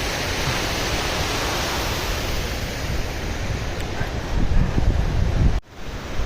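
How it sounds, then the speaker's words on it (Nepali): A strong gusting wind roars at a high mountain lake on the Tsho Rolpa trek in Nepal. It is loud and constant, buffets the microphone and cuts off sharply near the end. "हेर्नुहोस् हावाको बेग नेपालको झन्डा शिवरी भाइ हुसुले पुरै छोपिसकेको छ"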